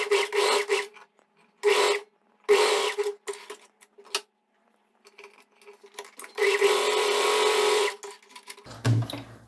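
A sewing machine runs topstitch seams on a short-and-blouse set, one close to the edge and one half a centimetre away, whirring in several short bursts with pauses, then one longer steady run near the end.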